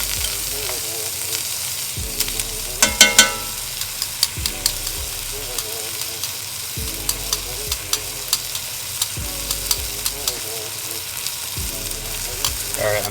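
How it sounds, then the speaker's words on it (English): Beef steaks sear and brown in a hot pan for birria tacos, giving a steady loud sizzle with periodic clanks and scrapes of utensils against the pan, without talk. "Okay, so I just flipped these steaks and they're all nice and browned on this side."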